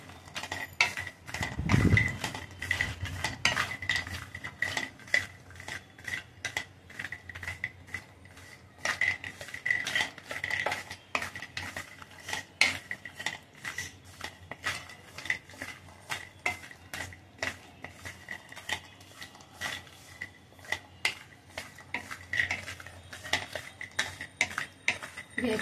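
Cashews, almonds and pistachios fry in a pan while a spoon stirs them, giving repeated close metallic scrapes and clinks in an irregular rhythm over a low sizzle.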